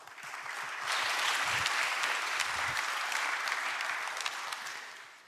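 An audience at a national policy planning committee public briefing applauds steadily, a dense wash of many hands clapping that swells in and holds at an even level, with no voices over it.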